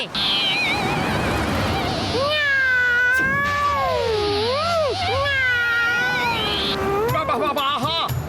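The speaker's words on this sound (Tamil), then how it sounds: "அந்த பூனை கத்துற மாதிரியே சத்தம் கேக்குதா?" A cat meows repeatedly in long, wavering, plaintive cries, loud and close, the pitch bending up and down over a steady background rumble.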